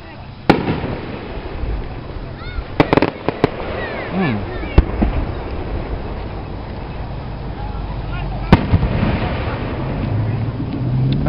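Scattered Fourth of July fireworks in Tri-City, Kentucky crack and pop at a distance, a few sharp bangs and whistling bursts over a constant rumbling background with some voices.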